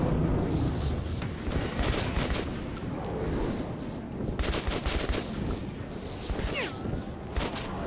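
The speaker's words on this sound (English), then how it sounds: "Are you shooting at me?" Gunfire rattles through the Metro 2033 Redux video game in rapid bursts and scattered single shots, loud and continuous, with booming echoes between volleys.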